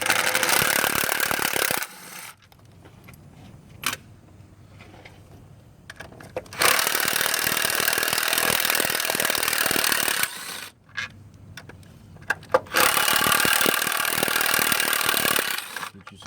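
Power tool whirring in long loud bursts while working on the intake of a 2005 Chrysler Pacifica engine, with quieter gaps of rattling and clinking parts between runs.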